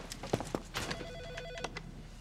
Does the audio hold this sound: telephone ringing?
yes